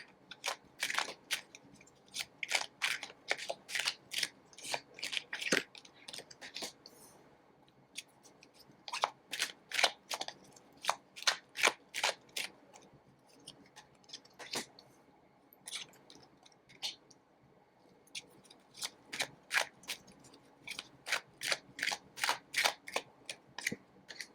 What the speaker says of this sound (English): I'm just going to pull maybe 2 or 3 cards from this deck